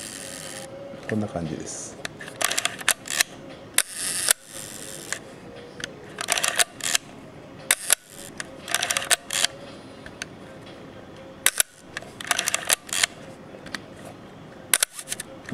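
Leica M3 rangefinder camera with self-timer running then releasing the shutter, heard as repeated sharp mechanical clicks and whirring bursts close up, with a voice speaking briefly.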